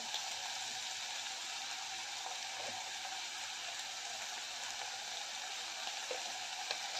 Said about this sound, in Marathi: बटाटा आणि पावटा घालून चांगलं परतून घेतलेला आहे